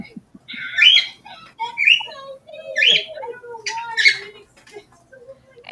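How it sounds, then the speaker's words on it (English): Pet birds squawk and chirp in bursts of bright, high calls, several overlapping outbursts close by, with a lower voice-like murmur underneath. "I apologize for the birds."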